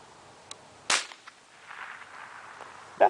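A single sharp crack of a Winchester Model 121 .22 LR rifle firing a round that seems underpowered, close and brief, with a fainter tap before it and another sharp crack at the end against outdoor background noise.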